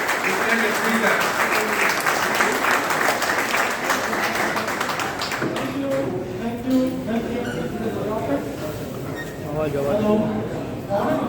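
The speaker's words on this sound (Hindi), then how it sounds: "और जोरदार तालियां" Applause from the audience at a live event in Himatnagar, Gujarat, loud and dense at first, then thinning midway into scattered claps under murmuring crowd voices.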